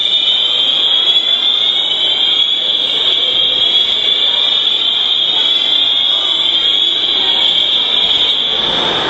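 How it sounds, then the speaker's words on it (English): A fire alarm sounds inside a shopping mall, Holyoke Mall, as a loud, steady, piercing electronic tone that continues unbroken throughout. "Fire alarm at Holyoke Mall"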